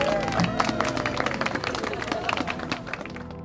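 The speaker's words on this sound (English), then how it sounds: "a nice round of applause please for Doreen" An audience applauding for Doreen: steady, moderate clapping from a crowd with murmuring voices underneath, lasting a few seconds and gradually thinning out.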